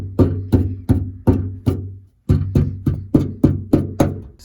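Knuckles knock firmly on the bare rear deck of a car before any Dynamat sound deadening is fitted, making a loud, resonant hollow thud. The knocks come in two quick evenly spaced runs of about five and seven, with a short pause between.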